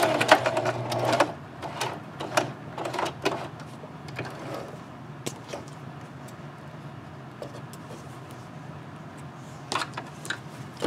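Home sewing machine back stitching fabric for a ponytail scrub cap made from fat quarters, a close steady whirring hum with rapid needle clatter, louder bursts at the start and again near the end.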